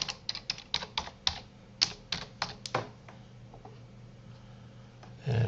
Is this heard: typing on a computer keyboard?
yes